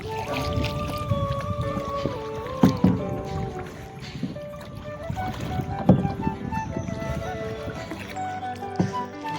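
A kayak moves across water in Goa, with soft splashes and paddle noise running steadily under a constant tonal background hum and occasional faint voices.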